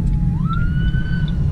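An emergency vehicle siren wails past on the road, its tone sweeping up and then holding steady, loud over a constant low rumble of road and engine noise.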